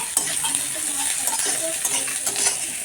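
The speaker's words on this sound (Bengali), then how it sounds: "এবার আমি এই পেঁয়াজটাকে একটু ভেজে নেব ভালো মতো" Onion frying in a pan with a couple of slit green chillies makes a steady, close hiss, with light spoon scrapes and taps scattered through it.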